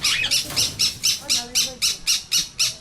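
A parrot gives about ten harsh, evenly spaced squawks in quick succession, loud and close, with faint human voices in the background.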